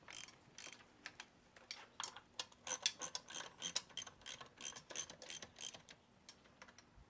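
Tightening bolts evenly on an outboard motor water pump with a ratchet wrench, a close, fairly quiet series of rapid clicking pawl strokes in short irregular bursts, no speech.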